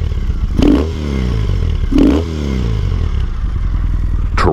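A 2010 Triumph Bonneville SE with a non-stock aftermarket exhaust idles with a deep, throaty note, revved twice in sharp bursts that swell and fall back, then a third quick blip at the end.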